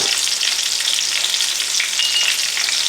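Chicken pieces frying in slightly underheated oil for a crispy sandwich, a steady dense sizzle that holds loud and close throughout with no talking.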